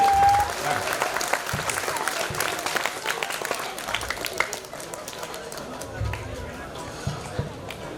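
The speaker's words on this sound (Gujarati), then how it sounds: "આ તાળી વગાડજો એકદમ મોબાઈલ જોડથી." Audience clapping at a village Khodiyar Mata festival, a crowd's applause swelling loud at first and then thinning into scattered claps, with voices and chatter underneath.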